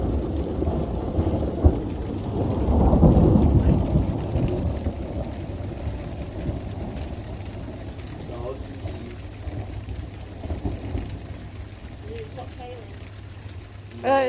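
Thunder rumbles during a thunderstorm with rain in Stocksbridge, UK, building to a loud roll early on and then fading into a steady wash of rainfall, while people talk quietly in the background.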